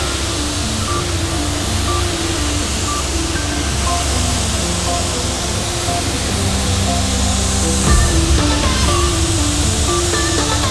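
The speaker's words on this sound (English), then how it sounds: "let's mix it up and let's start spraying." A spray gun with a 1.7mm Wolcom X Light tip sprays primer in a steady, loud, continuous hiss, with a faint background hum and no talking.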